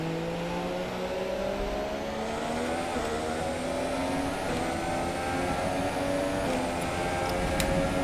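Sauber Formula 1 car in the F1 2017 racing game on the Canada Grand Prix circuit, engine droning steadily with rising gear-by-gear pitch sweeps, a continuous high whine mixed with the player's own car noise.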